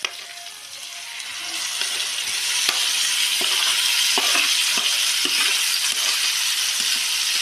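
Tomatoes sizzle in a pan for an egg tomato curry, giving a steady, loud frying hiss that builds and holds, with occasional stirring clinks and no voices.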